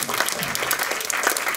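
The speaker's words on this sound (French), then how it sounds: "Vous pouvez vous applaudir." A studio audience applauds at a French television talk show, a dense, steady wash of clapping that fills the whole moment without pause.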